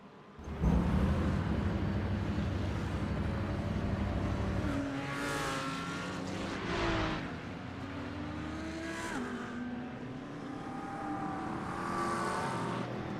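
GT3 race cars roar through an endurance race in a racing video game, engines screaming with rising and falling pitch as they accelerate, brake and shift, one car sweeping past, steady and moderately loud with no talking.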